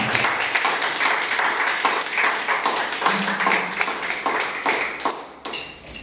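A church congregation at a Sunday service claps together to welcome God: steady, dense applause from many hands that keeps going for several seconds, loud and close, with a few voices mixed in.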